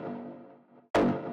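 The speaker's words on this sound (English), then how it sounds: "this type of FM percussive sounds" Two electronic FM-synthesized techno percussion sounds play back to back: a buzzy, harmonic tone that fades, then a sharp, bright-attacked hit with a metallic ring. Both are close and clear, with no voices.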